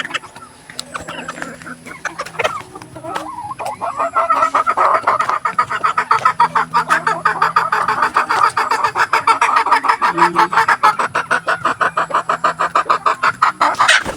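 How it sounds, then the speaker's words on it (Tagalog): Hens cackle loudly and repeatedly before laying eggs in a backyard flock kept with roosters, a close, steady, rhythmic clucking chorus that builds after the first few seconds, with a little talk underneath. "Yan mga kumakakak na yan, mangingitlog niya."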